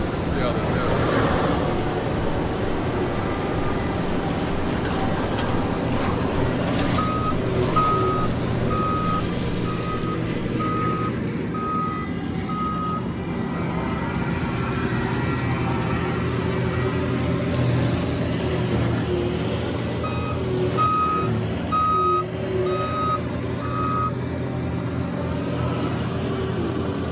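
A truck backing up sends out a steady run of evenly spaced reversing beeps, stopping partway through and then starting again, over a constant low engine rumble at a forestry mulching job on a farm, with someone talking throughout.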